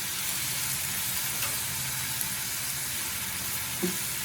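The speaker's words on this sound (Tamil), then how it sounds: "நல்லா ஃப்ரை பண்ணிக்கோங்க. நல்லா ஃப்ரை பண்ணிக்கலாங்க." Onion and tomato fry in a pan for a dried vanjaram fish thokku, giving a steady, close sizzle with a few brief stirring clatters and no talk.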